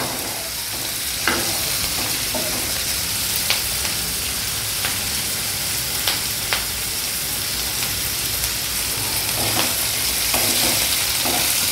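Chopped onion frying in a pan for soya masala, a steady dense sizzle with occasional sharp pops and clicks, no voices.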